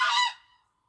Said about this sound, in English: I hope you can hear me over the geese.